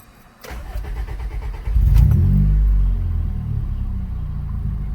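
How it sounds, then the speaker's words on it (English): A Honda Civic EM2 engine cranks briefly with a starter whine, then catches and settles into a steady, loud, low rumble close by. "let's check out the starter, see how it works out"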